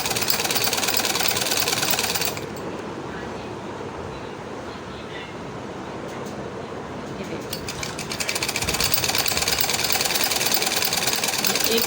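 Sewing machine stitching clothing runs loudly and close in a fast continuous whir, easing slightly in the middle before picking back up, with no talk over it.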